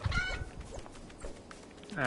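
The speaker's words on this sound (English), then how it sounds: "I can't kill this chicken." A Fortnite chicken clucks and squawks in short bursts at the start and end, with footsteps and game sounds between the calls.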